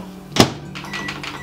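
A microwave oven door is swung shut with one sharp thunk, and the oven's running hum starts right after and carries on steadily.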